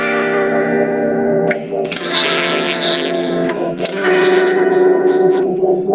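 An electric guitar runs through a Meris LVX delay pedal with its cassette effect in the pre-dry location. Wobbly, tape-like sustained chords and notes are processed with echo and modulation, loud and continuous, with no talking.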